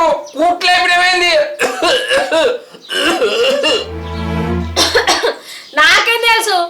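An old man coughing hard in a home, several harsh, throaty bursts with rasping throat clearing and groans, loud and close, broken by short pauses.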